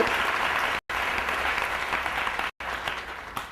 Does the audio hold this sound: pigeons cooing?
no